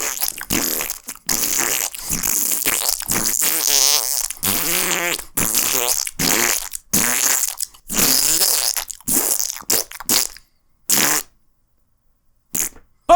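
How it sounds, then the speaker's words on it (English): A long run of loud fart noises, one after another in bursts of varied length with brief gaps, some wet and sputtering and others buzzy, close and with no talking. "Fart noises,"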